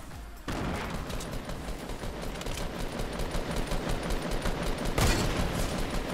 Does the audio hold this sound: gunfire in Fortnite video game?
yes